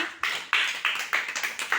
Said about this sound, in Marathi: व्हेरी गुड टाळ्या नंदिनीसाठी